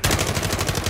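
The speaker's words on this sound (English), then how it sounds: "We pin them down with gunfire and somebody just runs them." Automatic gunfire in Call of Duty: Modern Warfare during a custom multiplayer match: a loud, fast, evenly spaced burst of about eight shots in under a second, up close and with no voices.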